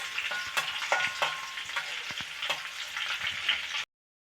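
Garlic frying in a pan over a medium-low flame: a steady, close sizzle with a few sharp stirring clicks and scrapes, ending abruptly in silence.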